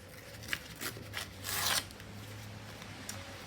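Cardboard packaging torn by hand, a few short scratchy rips and then one longer rasping tear in the middle, close and fairly quiet with no talking.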